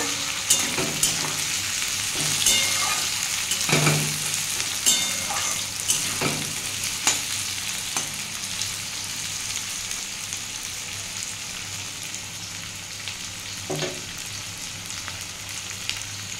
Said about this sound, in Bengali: এটা ভালো করে একটু ভেজে নেব